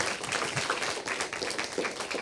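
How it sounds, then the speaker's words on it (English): An audience at a working-group session claps in steady, dense applause, moderately loud and sustained for a couple of seconds. "Can I have an applause for Bruno"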